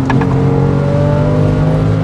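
A Porsche 911 997 Carrera 4S in sport mode holds a loud, sustained high-rev engine note at the redline, a steady close drone with no talk over it.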